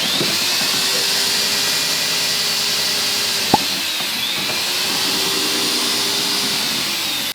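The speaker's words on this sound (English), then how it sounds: "Now I'm gonna start drill mixing in here." A steady, loud whirring drone of a drill churning a mixing paddle through epoxy for flooring runs throughout, with one brief click partway through.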